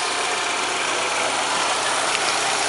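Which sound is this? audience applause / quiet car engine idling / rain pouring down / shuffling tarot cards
quiet car engine idling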